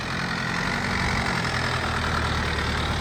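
A motorbike engine idles after arriving at a winter campsite in Mini Arang Kel, a loud, close, steady rumbling drone with no pauses.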